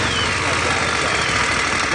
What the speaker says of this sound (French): J'écoute le moteur.